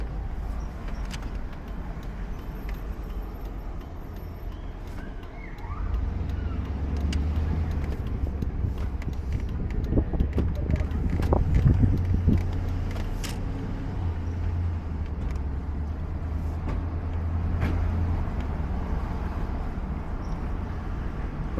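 A car drives along a road with a steady low tyre and engine rumble. It deepens and grows louder partway through, with scattered small rattles and clicks from inside the cabin. No one talks.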